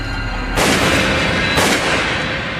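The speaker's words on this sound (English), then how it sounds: "But then he heard a gunshot." Two heavy, booming gunshot-like blasts sound roughly a second apart, loud and close. They ring out over a dense, noisy background, with no speech during them.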